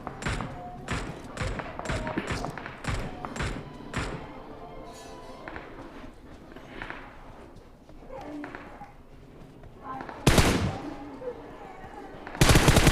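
Gunfire in the mobile battle royale game PUBG comes as a rapid burst of loud shots, then scattered thuds and quieter shots, with two sharp, very loud blasts near the end.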